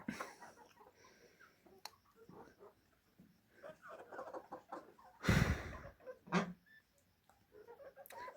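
Hens clucking in a backyard chicken coop, soft scattered clucks and murmurs with one sudden loud squawk midway, while someone talks quietly nearby.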